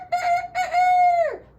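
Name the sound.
rooster crowing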